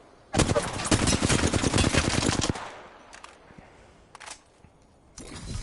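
Rapid automatic gunfire in the Apex Legends video game: a loud, dense burst of shots for about two seconds, then a few short, scattered bursts.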